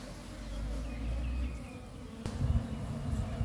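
Honeybees drone steadily around a hive under construction, the buzz dense and continuous, with a few closer passes and a low rumble near the microphone.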